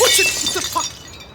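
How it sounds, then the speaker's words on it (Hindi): A glass mirror shatters loudly at the start, followed by a quick scatter of tinkling shards that fades into quiet. "देखो क्या किया, कांच तोड़ दिया तुमने।"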